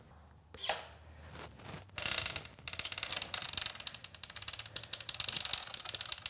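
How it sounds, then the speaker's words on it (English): Rear derailleur of a Vitus road/gravel bike clicking into the hardest rear gear during a workshop build: a few close mechanical clacks, then a fast, light ratcheting whir as the freewheel spins, quiet and with no talking. "we're going to move into our hardest gear in the back and our easiest gear in the front to make things easier for ourselves"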